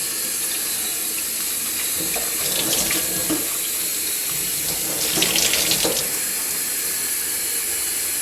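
Hot tap water runs steadily into a sink while metal is washed with Dawn dishwashing soap. Close, continuous splashing with brief louder surges as the stream strikes the item. No voices.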